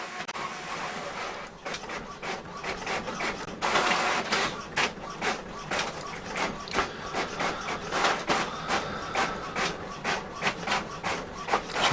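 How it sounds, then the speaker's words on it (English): A printer churns out pages with a steady run of rapid mechanical clicks and rasping feed strokes, continuous and close throughout, with no talking. "You can hear my printer spitting it all out."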